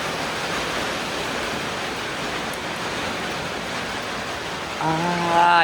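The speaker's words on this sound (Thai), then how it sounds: "ฝนตก" Steady rain pours down in a dense, even hiss that fills the whole stretch, with a voice starting to speak over it near the end.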